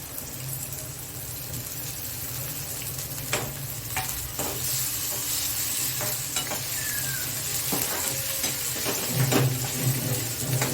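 Chopped vegetables for an oleya kaju cashew dish sizzle steadily in a hot pan, with intermittent scraping stirs and clinks of a spoon against the metal, close and continuous with no talking.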